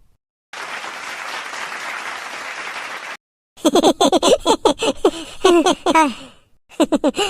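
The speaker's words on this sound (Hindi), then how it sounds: "चलो भाई, ताली बजाओ सब।" A group of people claps in a burst of applause for about three seconds at a Chhattisgarhi comedy show, followed by voices talking and exclaiming.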